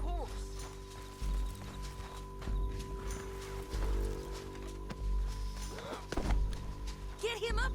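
Horse hooves clip-clopping in the Red Dead Redemption 2 video game, a steady walking gait heard near and moderately quiet, with in-game voices speaking over it and a brief whinny near the end.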